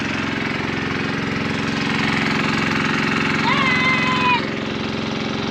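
A planting tractor's engine idles with a steady low rumble and a regular knocking beat, close and loud, while a brief whistle-like tone sounds near the end.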